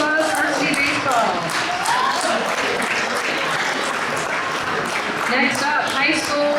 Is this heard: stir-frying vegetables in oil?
no